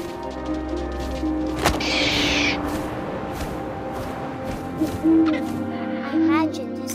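An owl hoots several times in the What Remains of Edith Finch video game, clear and fairly close, over a steady ambient wash with a brief burst of rustling noise.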